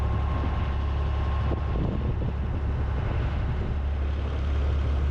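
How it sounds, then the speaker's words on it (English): Strong wind on a canal buffets the microphone with a constant low rumble and roar, steady and close for the whole stretch. "It is extremely windy today."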